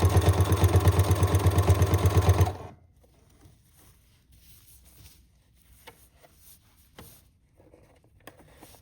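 Sewing machine running on heavy cloth in a basic straight-stitch session, a loud rapid rhythmic stitching burst for a couple of seconds that stops abruptly, leaving faint room noise and small clicks.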